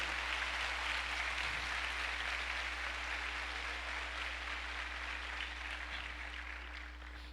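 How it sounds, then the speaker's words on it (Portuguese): A church congregation applauds together in a steady, moderately distant wash of clapping that continues for several seconds and slowly fades, with no voices over it. "Dê um aplauso ao Senhor."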